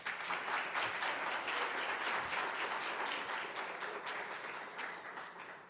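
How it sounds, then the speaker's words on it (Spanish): Warm applause from an audience at an optometry forum, welcoming a speaker to the stage, sustained dense clapping that holds steady for several seconds and slowly tapers off. "Recibimos con un cálido aplauso al licenciado en optometría, Juan Carlos López Méndez."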